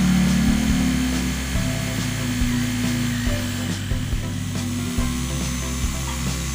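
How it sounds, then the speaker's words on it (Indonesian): A 10 mm drill bit boring through ceramic tile, a steady high grinding whine with rhythmic low thumps and rattles as the bit bites, loud and close with no talking. "kemudian kita langsung saja bor menggunakan bor 10 mm"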